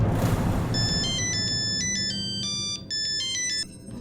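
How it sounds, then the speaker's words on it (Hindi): A phone ringtone plays as a call is placed, a bright repeating electronic melody of short beeping tones that runs steadily and clearly for several seconds with a brief break near the end, over faint background noise. "चल तू उसे फोन मिला"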